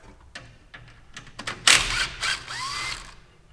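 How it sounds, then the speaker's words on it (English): A ratchet backs out 10 mm bolts holding the A/C condenser on a Western Star truck: a run of light clicks, then louder metallic bursts of turning and rattling, close by. "take these bolts out. They're 10 millimeter bolts that hold this condenser on here."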